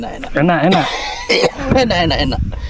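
Several short, harsh coughs and throat-clearing bursts close to the mic, mixed with voices chatting and eating around them.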